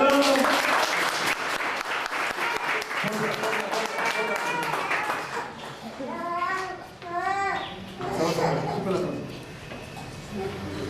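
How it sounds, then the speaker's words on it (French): Applause in a church at a baby's baptism, clapping from the congregation mixed with children's voices and adult chatter, continuing under lively talk throughout. "Est-ce que tous ont applaudi pour elle?"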